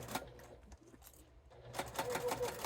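A sewing machine back stitching through a bifold wallet, with soft, rapid mechanical ticking in short bursts that pause briefly before picking up again, faint and close with no talking.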